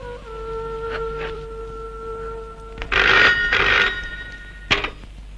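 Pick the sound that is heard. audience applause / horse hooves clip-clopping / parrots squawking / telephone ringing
telephone ringing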